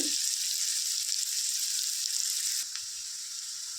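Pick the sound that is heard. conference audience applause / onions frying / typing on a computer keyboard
onions frying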